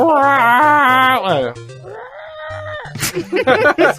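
A voice imitates a growling, yowling cat, drawn-out and loud, with wavering moans close to the microphone, followed by people talking over it.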